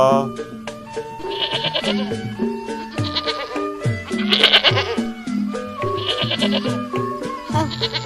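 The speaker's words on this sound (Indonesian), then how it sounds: "Itu ada kambing tuh." Goats bleat repeatedly, loud and close, a series of wavering cries overlapping with people talking nearby, at a street performance with an Ondel-ondel Betawi giant puppet.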